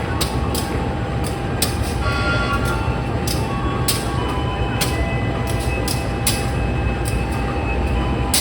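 KA Sri Tanjung subsidized economy train running from Lempuyangan station in Jogja toward Ketapang, Banyuwangi: a continuous loud rumble heard from inside the carriage, with repeated sharp rattles and clacks.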